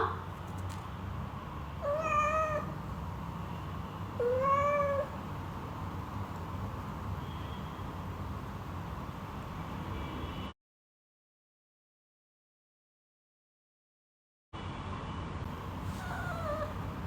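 A cat meows twice in a quiet indoor room, two short clear calls close by, followed by a brief gap of silence and a faint later cry.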